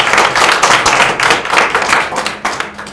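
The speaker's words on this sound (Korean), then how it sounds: "응원의 박수 좀 보내주시고" Loud, close applause at a meeting of district council members with a party election campaign chairman, many hands clapping densely and continuously for three seconds with a loose pulsing rhythm.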